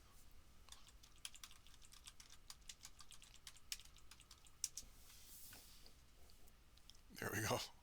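Rapid, irregular keystrokes on a computer keyboard during a classroom web demo, a run of close clicks lasting several seconds before a louder burst of noise near the end.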